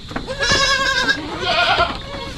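Two quavering bleats from young backyard goats, near and fairly loud, one following right after the other, over light background noise.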